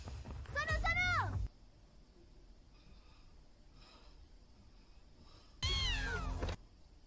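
A cartoon cat meows twice, each a loud, bending cry lasting about a second, separated by several seconds of quieter background.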